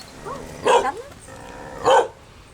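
Dogs in a village in Sapa, Vietnam, yelp and whine softly, then give two sharp loud barks about a second apart, close by, with no talking.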